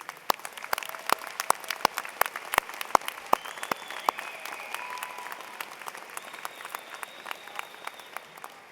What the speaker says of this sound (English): please rise and give those people who made sure you arrived today the round of applause they certainly deserve